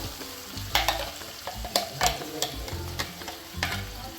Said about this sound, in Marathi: हे मसाला वाटलेला टाकून घेऊया आता भाजायला